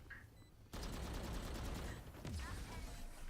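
Gunfire in the video game Valorant: a dense burst of rapid shots breaks out after a short quiet lead-in and rattles on continuously, with a short gap and then another flurry, loud and close.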